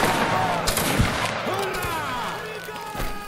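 Musket volley in a Napoleonic Wars game, a series of sharp cracks and thuds layered over distant battle noise and rumbling, with a few scattered shots across several seconds.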